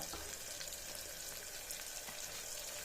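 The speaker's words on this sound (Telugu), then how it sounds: "కుక్కర్లో కొద్దిగా ఆయిల్ వేసుకొని ఒక ఉల్లిపాయ టమోటా వేగని" Onion and tomato sizzle in oil inside a pressure cooker, a steady close frying hiss with faint crackles and pops throughout, no voices.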